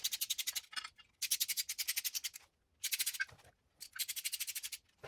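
Ratchet tightening small bolts on a CPP LS1-KU-P motor mount for a 4.8L engine, heard as bursts of rapid, fine clicking pawl strokes repeated in several runs with short pauses between, close and clear with no talk.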